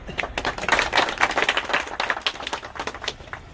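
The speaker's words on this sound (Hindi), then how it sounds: "शर्मा जी के लिए तालियां।" A small crowd at an RPF retirement ceremony honouring Sharma ji gives moderate, uneven applause, with sharp individual claps scattered across several seconds at a modest distance.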